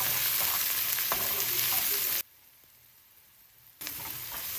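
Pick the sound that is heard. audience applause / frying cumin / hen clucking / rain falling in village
frying cumin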